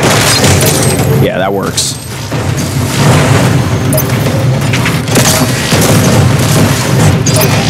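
Repeated grenade blasts and heavy combat booms from DOOM Eternal: The Ancient Gods, loud and continuous across the whole stretch, with someone talking over the din.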